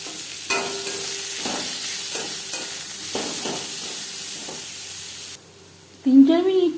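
Chopped onion frying in a kadai for a puti fish curry gravy gives a steady, close sizzle broken by soft stirring scrapes. It then cuts to a quieter moment and a short burst of sound.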